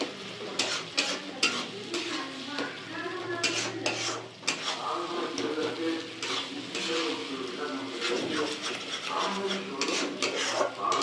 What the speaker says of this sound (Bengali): মশলাটা দিয়ে ভালো করে কষাতে হবে